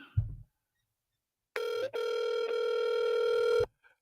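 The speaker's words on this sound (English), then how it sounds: "At least the dial tone." A steady electronic telephone tone sounds for about two seconds after a brief silence, loud and close, with a short thump before it.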